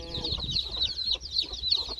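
Chickens cluck close by in a farmyard where a hen and her chicks have left the nest, with a steady chorus of high chirping chicks over the hens' low clucks.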